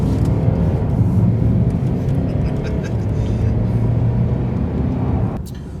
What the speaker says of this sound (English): You can hear the turbos kick in when I put the foot down.